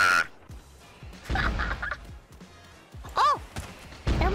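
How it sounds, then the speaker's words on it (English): Chickens in a brutal platformer video game squawk and cluck in short bursts amid thuds and game effects, with a voice talking over them. "we can shoot chickens at checkpoint things"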